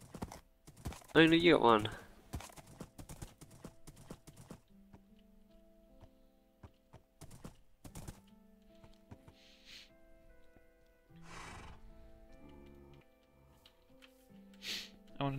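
Minecraft horses clip-clopping in a video game: soft, irregular hoof taps and clicks scattered across the clip, mixed with other game sounds and bursts of people talking.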